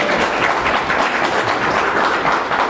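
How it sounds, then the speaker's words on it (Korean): Loud, sustained applause from an audience at a book concert, many hands clapping in a dense continuous wash close by for the whole stretch. "박수 한번 쳐주세요."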